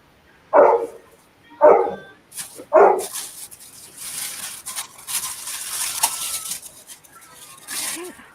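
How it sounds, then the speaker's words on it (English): A dog barks three times in quick succession, loud and close, followed by a stretch of rustling broadband noise with no further barks. "What are you barking at?"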